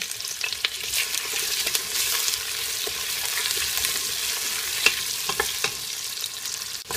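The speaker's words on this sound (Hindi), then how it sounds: "सबसे पहले हमने आलू इसके अंदर डालना है।" Potatoes and mixed vegetables frying in a pan, a steady close sizzle with intermittent stirring scrapes and small clicks throughout, no voices.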